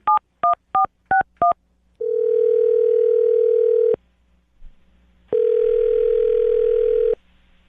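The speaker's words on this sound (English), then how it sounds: "I'm going to dial the phone number right now," A telephone line gives five quick touch-tone dialing beeps, then two long steady ringback tones separated by a short pause, loud and clear with no talk.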